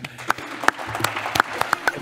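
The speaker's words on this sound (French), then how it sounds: "Applaudissements pour Vincent Renou" Audience applause at a city forum event in Amiens, a short burst of scattered claps with sharp individual hits standing out over a low murmur of voices.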